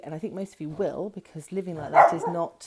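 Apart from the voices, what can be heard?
dog barking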